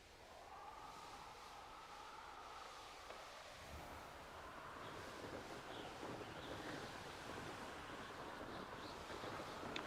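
Wind blows through an outdoor scene in the video game Hogwarts Legacy while the player flies, a steady, soft, broad rush of air that swells slightly without any voices.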